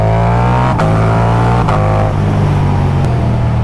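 A Ducati cruiser motorcycle engine running loud and close, a steady deep rumble with brief rev blips rising and settling roughly every second, continuous throughout with no talking.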